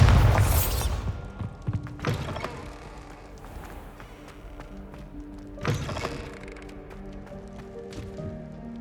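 A Bombarda blasting spell explosion in Hogwarts Legacy on PS5: a loud broadband burst with a deep low-end boom opens, then further sharp blasts at about two and six seconds over a rumbling game backdrop.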